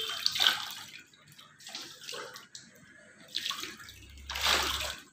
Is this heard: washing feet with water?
yes